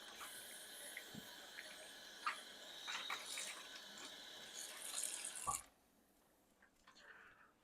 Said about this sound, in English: So I'm going to put a little water in this tray